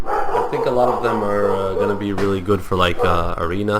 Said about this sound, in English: Sorry for my dog barking.